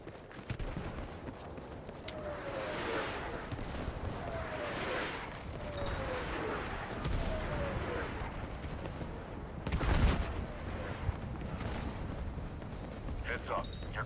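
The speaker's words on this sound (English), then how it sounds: "Watch out, airstrike coming in." Airstrike explosions in the video game Battlefield 6 REDSEC: descending whistles of incoming fire followed by deep, rolling booms that merge into a sustained rumble, with a heavier blast near the end and a voice talking at times.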